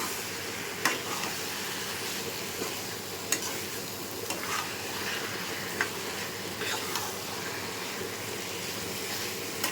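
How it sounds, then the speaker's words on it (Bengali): Taro leaves with chickpeas being stir-fried dry in a pan, a steady close sizzle punctuated every second or two by sharp scrapes and taps of a spatula against the pan. "এভাবে কষিয়ে কষিয়ে একদম শুকনো করে নেব।"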